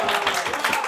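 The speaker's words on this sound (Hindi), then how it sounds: "ये दो तीन बच्चों ने तालियां बहुत अच्छी मारी हैं।" A few students clap briefly in a lecture room, a short burst of scattered hand claps that fills the moment at steady loudness.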